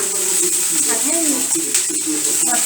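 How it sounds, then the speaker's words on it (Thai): Squid tentacles sizzle and stir-fry with garlic in a pan, a steady crackling fry with scraping stirs, under a voice talking throughout. "เราก็ใส่หนวดปลาหมึกลงไปได้เลยค่ะ นี่ค่ะ ใส่หนวดปลาหมึกลงไปได้เลยค่ะ ก็ผัดให้เข้ากันค่ะ"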